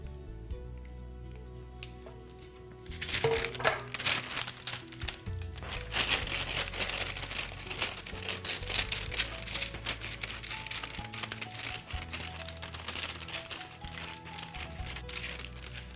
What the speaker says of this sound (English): I will line it with some parchment paper